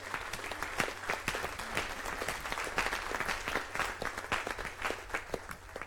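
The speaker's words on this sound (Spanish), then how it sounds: "Dele palmas a Cristo." Church congregation clapping for Christ during a Spanish-language Bible study on Exodus, a lively, sustained burst of many hands with distinct sharp claps throughout, fairly close.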